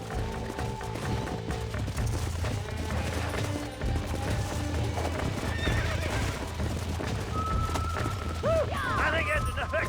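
A horse in the Red Dead Redemption video game, with busy clip-clopping hooves under a swelling musical score and a clear, loud whinny bursting out near the end.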